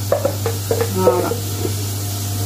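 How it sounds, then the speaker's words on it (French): Two chopped yellow onions sautéing in a pan while being stirred, a soft steady sizzle with a few clinks and scrapes of a utensil near the start, close and moderately loud over a constant low hum. "j'ai coupé 2 oignons jaunes que je vais faire revenir"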